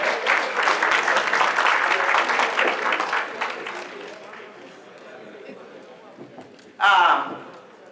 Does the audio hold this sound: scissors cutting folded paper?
no